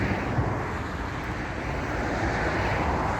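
An airplane's engine runs near the runway at Naval Air Station Jacksonville, a steady broadband roar with a wind-like rush, heard from some distance and holding constant without talk.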